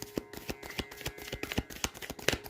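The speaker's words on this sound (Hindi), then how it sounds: "फिर भी शफल कर लें" Tarot cards shuffled by hand in quick, uneven riffles and slaps, close and soft, a rapid irregular patter of card flicks with no talk.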